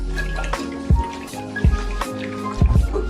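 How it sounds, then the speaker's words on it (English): Water added to a homemade drink mix falls in a few distinct drips and small splashes, spaced irregularly and fairly close, with no talking. "watch what happens when I add water"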